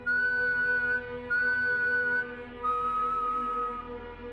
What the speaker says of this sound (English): 3 long whistles,